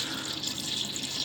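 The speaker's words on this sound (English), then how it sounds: "that's all the air out and the tap is running." A tap runs with hot and cold water mixed while the tanks are cleaned and prepped for travel, giving a steady, close, even rush of flowing water throughout.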